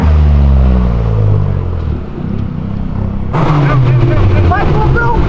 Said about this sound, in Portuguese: Mano, o ronco do carro tá lindo